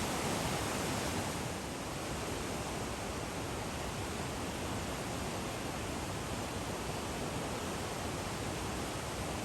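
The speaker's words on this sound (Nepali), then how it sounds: "मर्स्याङ्गी नदी यसरी उर्लेर बगिरहेको छ" A swollen Marsyangdi river in Nepal, between Tanahun and Gorkha, roars after heavy rain, a steady dense rushing wash of water that stays loud and unbroken throughout.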